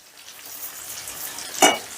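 Spices and fried onions for aloo pulao sautéing in a pan, a soft steady sizzle with a brief louder hiss of stirring near the end, no talking.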